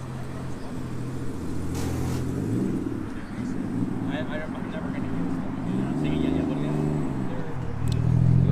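A Veilside RX-7 pulls up nearby, its engine rumble rising and shifting steadily beneath a low roadside background.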